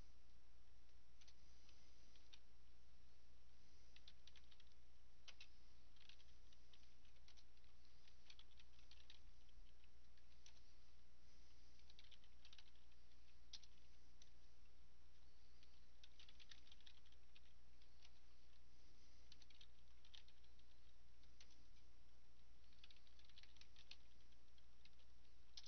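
Steady, fairly faint typing on a computer keyboard while Java code is written out, with scattered light key clicks continuing over a constant low hum for the whole stretch, no talking.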